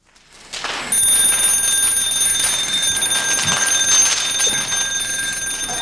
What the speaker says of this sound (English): This is the mechanical low alarm.